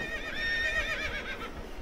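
A horse whinnies in a long, wavering cry during a struggle against a lasso rope, the call loud and close over a steady rumble of background noise.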